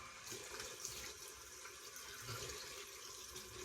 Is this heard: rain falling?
no